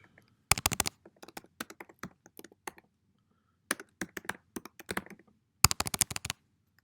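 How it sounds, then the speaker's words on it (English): Typing on a computer keyboard, close and crisp, in quick bursts of rapid key clicks separated by short pauses and scattered single taps, with no voice over it. "sorry, I want to type properly"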